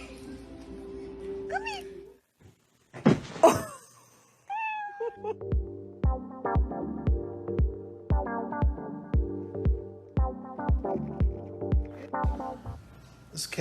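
A house cat meows several times, the cries rising and falling and fairly loud, followed by a long series of steady rhythmic thumps or taps beneath the quieter end.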